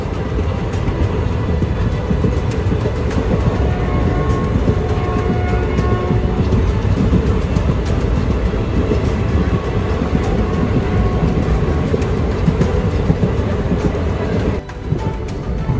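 Kolhapur to Solapur passenger train, number 22156, running steadily with a continuous loud rumble and rattle of carriages throughout, a brief dip near the end, with no talking.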